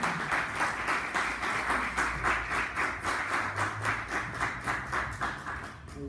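An audience at a talk claps in unison, giving a steady rhythmic beat of many hands at moderate level that runs the whole time without speech.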